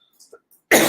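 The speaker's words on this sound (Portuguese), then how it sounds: "Espera que eu vou tossir." A single cough bursts out loud and close near the end, a harsh broadband hit after a few faint throat noises and near-silence.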